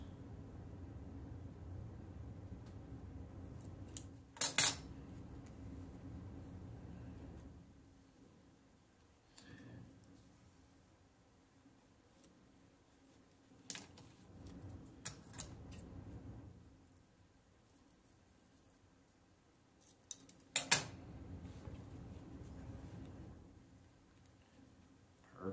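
Balsa or wood pieces for a model airplane's horizontal stabilizer and tail being cut by hand, a few sharp bursts of snipping and scraping separated by quiet pauses, close and fairly soft with no talking.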